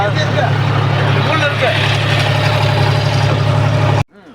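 A vehicle engine runs steadily while being driven, a loud, constant low rumble with road noise throughout that cuts off abruptly near the end.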